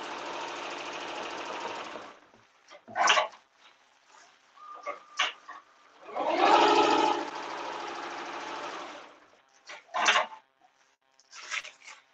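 An embroidery machine sews a test stitch onto a belt, running in steady mechanical bursts that start and stop with short pauses between runs, close and fairly loud with no talking.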